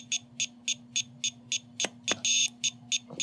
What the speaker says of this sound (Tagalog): Tingin ko paos yung buzzer nitong nabili ko.